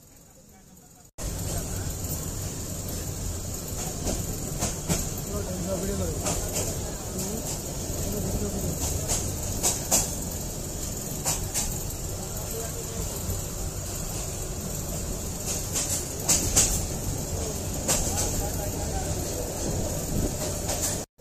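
The Bijoy Express train travels from Mymensingh toward Jamalpur, a loud, steady rumble and rattle heard from inside the carriage for about twenty seconds, with occasional clanks and muffled voices of passengers beneath it.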